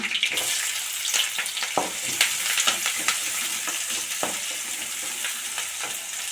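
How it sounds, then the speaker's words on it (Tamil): Onions and green chillies sauté in a pan, a loud continuous sizzle and crackle with frequent scraping stirs and no voices. "வெங்காயம் நல்லா வதங்கட்டுங்க"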